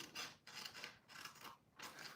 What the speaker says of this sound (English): take your scissors, and just cut up the center on that line.